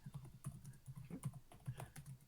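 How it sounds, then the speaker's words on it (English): Fingers type on a computer keyboard in quick, irregular keystrokes, close and quiet, with no one speaking. "Stop typing!"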